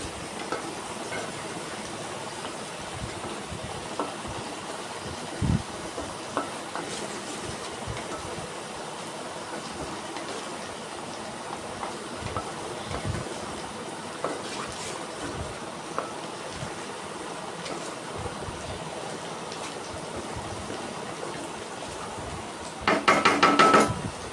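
Ridge gourd pieces tossed into a pan of frying onions, giving a steady, even sizzle that hisses on without pause and swells into a brief louder crackle near the end.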